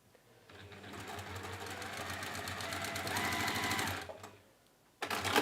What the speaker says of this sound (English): So we've sewn these 2 fabrics together into a pair